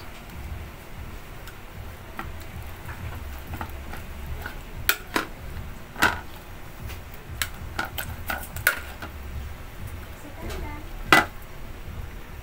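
A utensil clinks and taps against a cooking pot while tomatoes are crushed for sinigang, a sour Filipino fish soup; scattered sharp clicks ring out over a low simmering background, with no talk.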